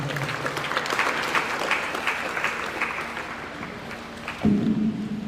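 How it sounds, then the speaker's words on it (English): A crowd claps continuously at a fundraising seminar and dinner, a dense patter of applause that holds steady, with a brief louder burst near the end. "Please let's give a round of applause to Mr. Jagana."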